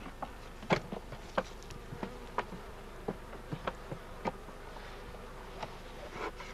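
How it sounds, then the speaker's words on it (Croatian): Honey bees in an opened beehive buzz faintly around the frames, with occasional sharp knocks and clicks from handling the hive and no talking. "Ovdje su pčele. Evo, to je već posednut. Evo ga pčele i med."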